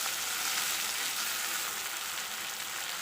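Tomatoes sizzle and fry steadily in a pan with coriander and curry leaves for a South Indian brinjal-tomato kadayal, a continuous close hiss with no talking.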